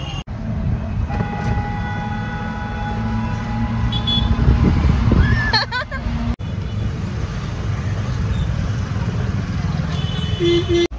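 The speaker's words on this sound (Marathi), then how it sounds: "पण आता आम्ही ऑटोने जाणार आहोत." An auto rickshaw rides through town traffic on the way to a temple ashram, its engine rumbling steadily throughout, with horn toots, passing vehicles and a sharp knock near the middle, and voices heard faintly in the mix.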